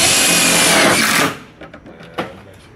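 A power drill drives a self-drilling screw into a bus panel, a loud close whirring that cuts off abruptly, followed by a few faint clicks and a light knock.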